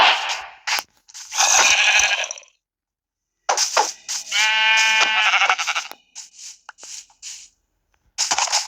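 Minecraft sheep bleat in repeated bursts, loud and close, with short quiet gaps and scattered game clicks between the cries.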